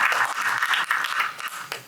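Audience applause at a conference session on integrated housing and health service delivery, a steady wash of clapping lasting about two seconds with a brief swell near the end, no voices over it.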